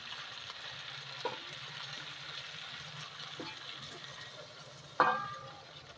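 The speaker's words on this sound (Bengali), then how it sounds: "ঝোলটা দিয়ে অল্প ফুটিয়ে নেব ভালো করে" Chicken curry gravy with curry leaves simmers and gently bubbles in a pan, a soft steady sizzle with a few sharp clinks and scrapes near the end, no talking heard.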